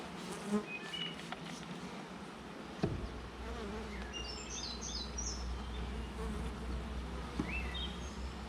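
Honey bees hum and buzz steadily around an open hive during a week-ten inspection, a dense, continuous drone with individual bees zipping past close by and a soft thump partway through.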